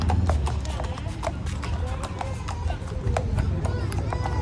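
Horse hooves clip-clop at a steady trotting pace during a ride in Baguio City, close and loud, with voices chatting over them.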